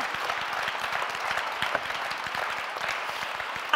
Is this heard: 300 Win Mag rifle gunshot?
no